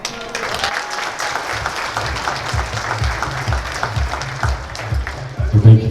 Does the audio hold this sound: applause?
yes